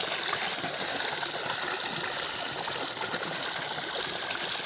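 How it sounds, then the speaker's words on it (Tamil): Water gushes steadily from the 2.5-inch outlet pipe of a 900W BLDC pump filling a paddy field, a dense, constant rushing flow heard up close with no break. "தண்ணி ஃபுல்லாக நல்லாவே கோர்ஸாக போயிட்டுருக்கு"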